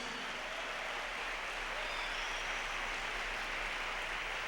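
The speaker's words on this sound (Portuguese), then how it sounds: "Esse aplauso é para Jesus." Sustained applause from a church congregation during a bilingual worship celebration, a constant broadband roar of many hands clapping at even loudness throughout, with no speech on top.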